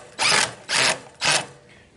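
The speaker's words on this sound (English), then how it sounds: "I was telling Lynn these screws suck because the bit doesn't fit tight in them" A power drill drives screws that fit the bit loosely, in three short, loud whirring bursts evenly spaced with brief pauses between, then a quieter trailing buzz.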